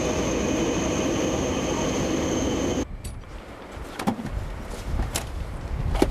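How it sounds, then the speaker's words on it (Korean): A subway train rumbles loudly in a steady roar with a high whine, then the noise drops sharply, leaving a quieter carriage interior with scattered knocks and rattles. "재욱 씨가 지하철을 타고 등교를 할 무렵"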